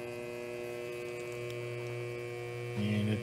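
A Yuasa 10-inch horizontal rotary table servo drive runs at slow speed with a steady electrical hum, a louder pulse joining near the end.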